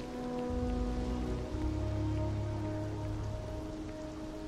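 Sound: rain falling in the video game Starfield

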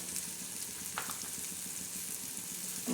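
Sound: sautéing Russian-style usal with chili, turmeric and salt

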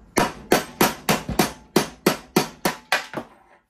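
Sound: hammer tapping a bearing on a Craftsman LT1000 mower

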